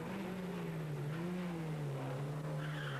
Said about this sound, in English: the Group N leader, Jean-Marie Millissen, still pushing on in his Sierra Cosworth.